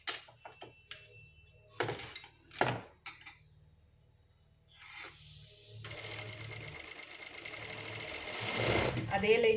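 A sewing machine stitches a fabric sleeve, first in a few short separate bursts, then in one continuous run of fast mechanical whirring and clatter to the end. Quieter knocks and brief handling noises fall between the bursts.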